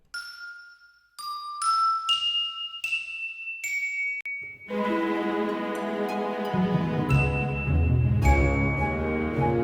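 Soft chimes and glockenspiel in a seafaring-themed music composition ring out as a series of bright, separate struck notes, then a sustained chord with a low bass layer joins beneath and the notes ring on together.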